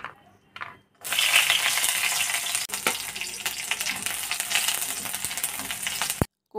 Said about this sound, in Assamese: ভাজা তেলখিনিতে নহৰু দিম।